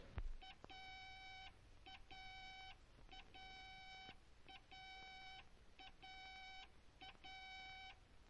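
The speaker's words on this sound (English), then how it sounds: "If I go to the left of my course, I hear a series of dot dashes" A repeating electronic tone pattern sounds at a regular pace, short and long beeps cycling steadily as a dot-dash radio beam navigation signal, faint against static hiss.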